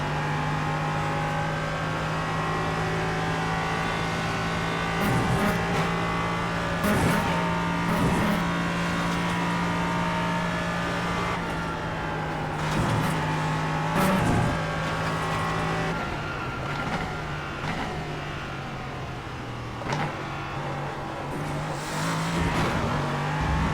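An LMP3 prototype race car in iRacing at Virginia International Raceway, its engine droning with a strong steady tone, rising and dropping through quick upshifts and throttle lifts, with occasional tire scrub, loud and continuous with no voices.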